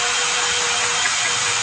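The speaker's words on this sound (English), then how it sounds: "one of these wire brushes that I put on my drill to be able to go over any rusty areas" Wire brush spun by a drill scouring rust off an old red-painted hand truck, a loud, continuous abrasive whirring and scraping close by, alone without talk.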